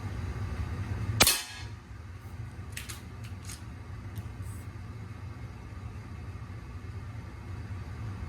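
A single sharp report from a Hatsan Vectis .22 air rifle shooting 14.3 grain domed pellets over a chronograph in a crosswind, followed by a few faint, distant clicks against steady background hiss.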